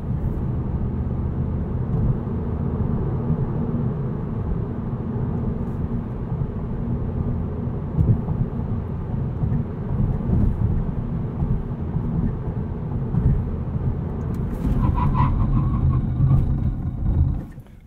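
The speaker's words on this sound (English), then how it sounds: "Do a little 60 to 0 braking here." A 2020 Volkswagen Golf GTI with a six-speed manual braking from 60 to 0 produces steady low road and tire rumble with wind noise, then a brief rise in tire noise near the end before it cuts off.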